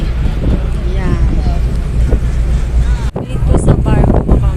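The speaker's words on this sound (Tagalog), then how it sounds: "Pero hindi tayo pwedeng mag-basket kasi ang lakas-lakas ng hangin." Strong wind buffets the microphone at an outdoor court with a basketball hoop, a loud, steady roar rising and falling in gusts, with voices faintly talking underneath.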